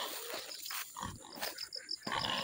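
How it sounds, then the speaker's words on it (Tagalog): A pig being fed on a farm gives repeated close grunts and squeals, irregular bursts over about two seconds, fairly faint overall with no talk. "At ang purpose natin dito is magpapakain tayo ng baboy."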